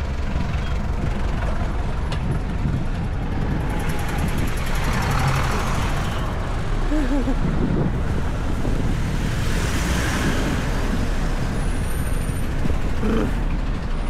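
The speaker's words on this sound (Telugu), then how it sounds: "full traffic" Heavy road traffic rumbles steadily with trucks and buses, a dense continuous roar of engines and tires passing close, with brief hissing and squealing brakes and no voices.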